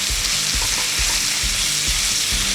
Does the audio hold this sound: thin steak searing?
yes